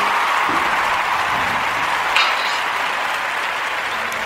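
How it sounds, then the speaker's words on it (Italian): Applause for a podcast guest as he joins, a dense, even wash of clapping holding steady and alone throughout. "Applausi anche per Marco Mengoli"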